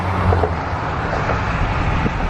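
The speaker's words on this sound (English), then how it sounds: "the sound of traffic and us trying to get to the game, it's been a nightmare" Road traffic near Everbank Field stadium in Jacksonville on a football game day, a steady, dense roar of passing cars with wind buffeting the microphone, continuous and fairly loud with no talking.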